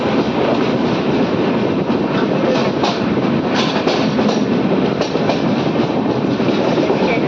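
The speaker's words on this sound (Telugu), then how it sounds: "మొత్తానికి మన ట్రైన్ కూడా కాకినాడ నుంచి అయితే బయలుదేరిపోయింది." A passenger express train runs on the rails after leaving Kakinada, giving a loud, steady rumble with rhythmic clickety-clack of the wheels, heard continuously from on board.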